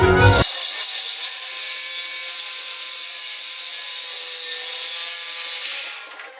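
A power tool cuts a piece to fit the car floor on an LSX Monte Carlo project, a loud steady high-pitched grinding whine that holds for several seconds before tapering off.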